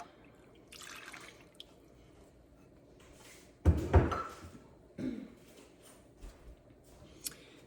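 Four cups of milk poured into a pan for a double batch of sourdough sausage gravy, a short liquid splash and gurgle mid-clip with a smaller follow-up pour, over faint kitchen background.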